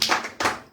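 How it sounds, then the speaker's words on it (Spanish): Two loud, close hand claps from a church congregation, a fraction of a second apart, each with a short ringing decay. "Palmas para el Señor"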